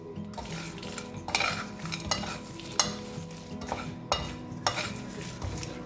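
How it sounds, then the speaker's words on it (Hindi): Spices for chaat masala, including black salt and plain salt, stirred together in a bowl with a spoon, giving a series of gritty scraping strokes and clinks at close range with no talk. "इस सारे मसाले को हम इसके अंदर मिक्स करते हैं।"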